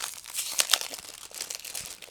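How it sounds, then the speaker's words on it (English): Sealed plastic bag holding 1/72 model kit sprues being cut open, giving close, crisp crinkling and tearing with a few sharp crackly bursts. "we continue with the sealed plastic bag. So here I have to cut through it"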